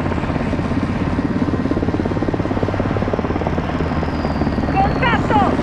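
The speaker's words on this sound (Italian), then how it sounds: "Ok, Nick Nikolai, bloccali con l'elicottero!" A helicopter in the video game Call of Duty: Modern Warfare 2 gives a steady, loud rhythmic rotor thump with engine whine, joined near the end by sweeping whistling effects.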